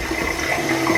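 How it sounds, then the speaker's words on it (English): Water running from a bathroom tap while washing off makeup, a steady close rushing splash that continues evenly with no talk. "turn on the water"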